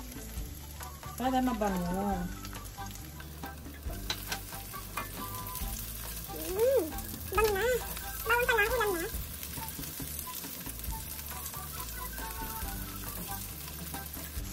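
Garlic frying in a pan for monggo with coconut milk, a steady broadband sizzle running throughout with stirring clatter, while someone talks over it in bursts.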